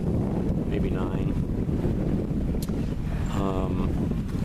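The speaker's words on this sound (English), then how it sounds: "Wind could be a little heavier" Steady wind buffets the microphone aboard a sailboat out on a lake, a continuous rushing roar with faint voices briefly audible beneath the gusts.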